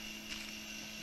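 Electric motor of a Telemaster B-27 RC model airplane on its first takeoff, a steady high whine with a constant tone, moderately loud and continuous with no voices.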